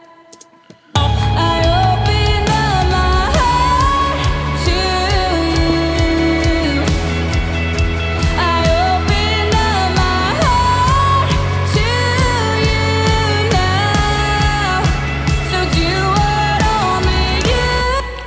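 Live worship song with a lead vocal mixed over a full band, a steady dense wash of drums, bass, keys and singing running loud and continuous after a brief quiet start.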